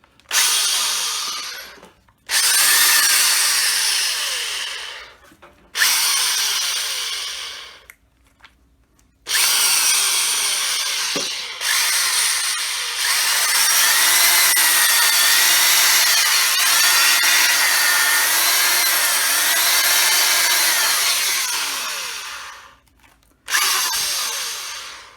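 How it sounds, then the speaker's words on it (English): A repaired Black & Decker 4-speed electric drill runs in several loud bursts of steady motor whine, with gearbox hum and vibration audible as it winds down between runs. No one speaks. "Gearbox sounds, there's a bit of vibration, a bit of gear, the vibration as it slows down"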